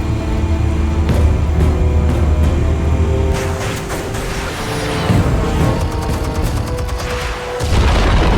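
Explosives detonate in the Batman Telltale game with a deep, rumbling boom over a low drone, followed by crackling debris and a swelling score.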